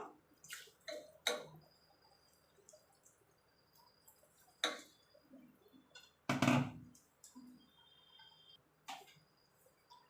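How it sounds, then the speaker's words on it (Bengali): A kitchen gas stove is lit beside a pot of water for boiling banana flower, with sparse, faint igniter clicks and ticks spread out in quiet, then one louder burst as it catches. "এবার গ্যাসটা ধরিয়ে দেবো।"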